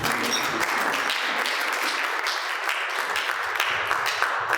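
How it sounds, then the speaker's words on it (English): An audience at a panel discussion on Europe and the EU elections claps steadily in dense, sustained applause that stays at an even level throughout, with no talking. "Please, an applause."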